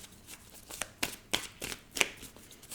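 A card is drawn and handled from an oracle deck during a tarot-style reading, giving a series of crisp, papery flicks and slides in a quiet room.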